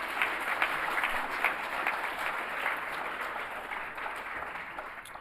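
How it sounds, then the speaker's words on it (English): An audience at a high school fall sports award ceremony applauds the team, a sustained roomful of clapping hands, dense and even, fairly loud and gradually easing toward the end. "So I think a big round of applause for these guys for just doing that."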